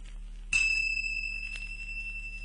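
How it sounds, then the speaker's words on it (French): A single bright chime of small bells rings out with a sustained, shimmering high tone that slowly fades, like a small bell tinkling once. "Elle fera tinter ses petites cloches comme ceci."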